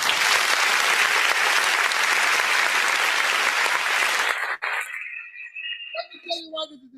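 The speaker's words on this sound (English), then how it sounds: "A round of applause for His Excellency. Please put your hands together for Darasimi as well." Loud, dense crowd applause and cheering at an APC political rally in Kano, sustained for about four seconds before breaking off abruptly into scattered claps and whistles.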